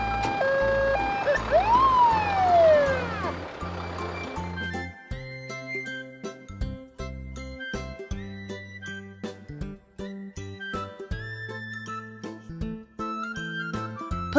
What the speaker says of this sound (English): Police Mobile Command Center.